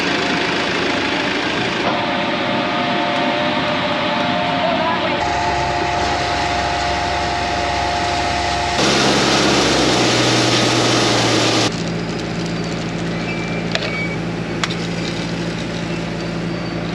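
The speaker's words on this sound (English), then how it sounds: "I'm in the tractor waiting for Daniel's signal to turn it off" A farm tractor engine runs steadily while a corn wagon is unloaded, a continuous low idling drone with shifts in tone partway through and no talking.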